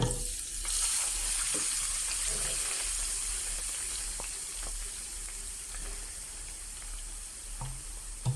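Onions saute in hot oil in a pan for a Durban-style crab curry, giving a steady, close sizzle with a few faint stirring clicks and no talking.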